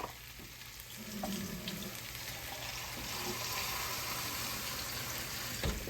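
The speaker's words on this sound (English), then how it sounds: "Now we're going to pour a little water in here." Water pours into a hot pan, producing a steady hiss and sizzle that builds slightly and carries on throughout.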